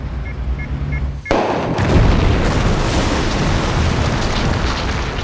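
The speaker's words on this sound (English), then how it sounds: "Okay, it took a whole day to prepare for that one blast." A charge is detonated in a tunnel under construction for a mega tunnel project: after a faint beeping, a sudden loud blast erupts and rolls on as a long, heavy rumble.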